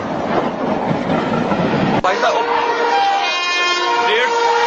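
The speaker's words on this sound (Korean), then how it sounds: "기차 소리가 시끄러워서 반대편에서 오는 기차를 못 듣는 거예요." A loud train passes close by on a railway, with a roaring rumble of wheels that gives way to sustained horn-like tones and rattling carriages.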